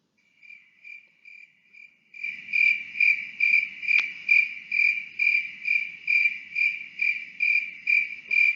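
Crickets chirp in a steady pulsing trill. A few faint chirps come first, then a louder regular series of chirps repeats evenly until the end.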